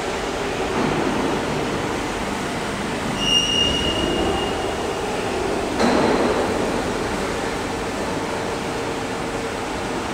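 A fence post roll forming machine with about 26 rolling stations, gearbox drive and vertical motor runs with a steady broadband mechanical hiss and rumble, a couple of brief high metallic squeals, and one sharp clank midway.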